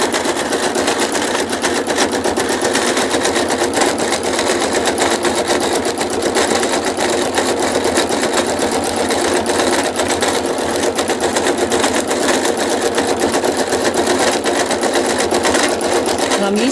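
A freshly serviced sewing machine stitches fabric in a steady, loud, continuous whirring run close to the microphone, with no pauses.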